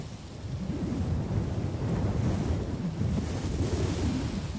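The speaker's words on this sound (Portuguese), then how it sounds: "O árido vento do deserto sopra durante todo o dia." Steady desert wind blowing hard and continuously, a dense low rushing roar with gusty swells and no other sounds.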